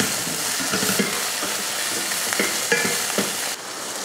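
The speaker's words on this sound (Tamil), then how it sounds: "வெங்காயம், வெள்ளைப்பூண்டு, இஞ்சியெல்லாம் இந்தளவுக்கு வதங்கினதுக்கப்புறம் தக்காளி சேர்த்துக்கலாம்" Onion, garlic and ginger sautéing with tomato in a pan, a steady close sizzle with repeated soft scraping strokes of a spoon stirring through the mixture.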